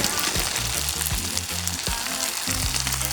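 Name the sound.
prawns sizzling as they go into frying chow mein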